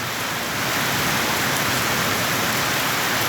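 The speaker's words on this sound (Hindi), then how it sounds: "और तीव्रता से बारिश करते हुए" Heavy rain pours down steadily on a flooded area around a wheat purchase centre, a dense, loud, unbroken hiss with no voices.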